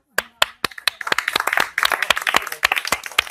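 An audience at a village bottle game claps hands, sharp separate claps at first that quickly thicken into brisk, lively applause.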